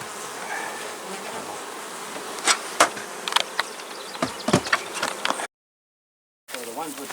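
Honey bees swarm around an open finishing hive, a loud, close, steady buzz with individual bees zipping past the microphone, broken by a brief total dropout near the end.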